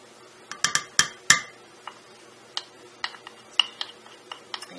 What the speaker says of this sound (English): we add that into our milk mixture. Just stir it in.